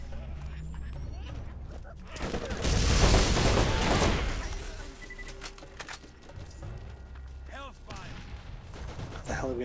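Turret gunfire in the video game Borderlands: a dense, loud burst of rapid shots that swells in the middle and then eases into scattered game effects, with excited players talking over the action.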